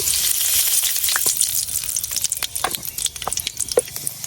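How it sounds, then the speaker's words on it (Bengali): Black cumin seeds hit hot oil and sizzle loudly up close, a dense crackling hiss that breaks into sparser popping and spitting as it settles. "আমার তেল গরম হয়ে গেছে এখন আমি তেলের মধ্যে অল্প একটু কালো জিরা দিয়ে দিতেছি"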